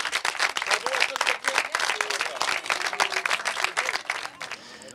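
Crowd applause at an inauguration ceremony for a daycare center installation, lively scattered clapping with some cheering and voices mixed in, moderately close and continuing throughout.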